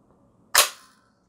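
Echo1 GAT airsoft electric gun firing a single semi-auto shot, a sharp near crack with a short metallic spring twang ringing briefly after, otherwise quiet.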